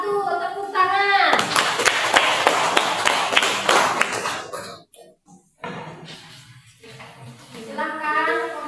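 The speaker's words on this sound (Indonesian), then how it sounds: "Tepuk tangan." Classroom applause after a group presentation, a burst of brisk hand clapping from students that swells and then stops, with speaking voices before and after it.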